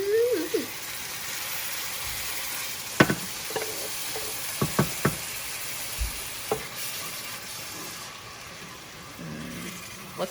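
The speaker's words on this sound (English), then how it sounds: "Just making sure we stir that in" Noodles and tomatoes simmering in a hot pan for Cajun shrimp fettuccine, with a steady sizzle throughout and a few sharp utensil scrapes and clicks as the mixture is stirred.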